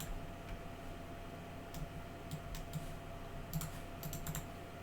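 Quiet typing on a computer keyboard during 3D modeling work, scattered light key clicks in short bursts over a steady low hum.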